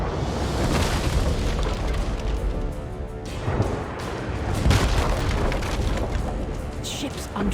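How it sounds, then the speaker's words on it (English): A ship comes under bombardment in The Elder Scrolls Online, with repeated loud booming explosions and crashing impacts striking through the scene as voices talk over the chaos. "They're bombarding the ship!"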